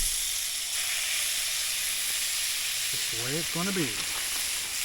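Steaks searing in a crowded pan give off a steady, loud sizzle and hiss that holds for the whole stretch, with someone speaking briefly over it near the end.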